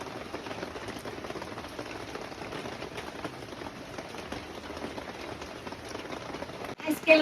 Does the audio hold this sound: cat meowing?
no